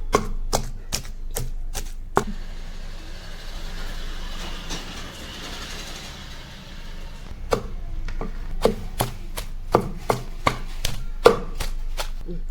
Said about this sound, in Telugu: ఇప్పుడు అన్నీ కలిపి దంచుకోవాలా